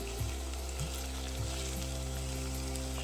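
Onion and potato fry in a vessel for paalak rice, giving a soft, even sizzle over a steady hum, broken by a few low knocks of stirring near the start.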